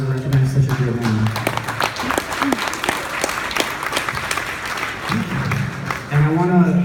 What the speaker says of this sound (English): I want to give a round of applause to you guys